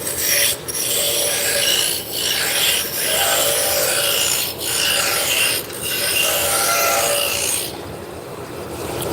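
A roughing gouge cuts along a wooden spindle turning on a lathe, giving a steady, loud rasping scrape that dips briefly at regular intervals as the tool passes, with no talking.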